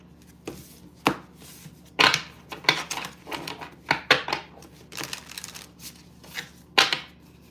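Tarot cards being shuffled in the hands, heard as irregular bursts of crisp riffling and tapping with short pauses between, close and fairly quiet, no speech.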